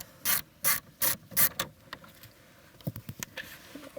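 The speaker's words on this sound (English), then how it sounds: "So we're gonna locate the center there, spin those right out." Torx T20 screws being spun out of a Volvo V70 kick panel with a driver, heard as four loud, evenly spaced ratcheting bursts close up, followed by a run of quicker, fainter clicks.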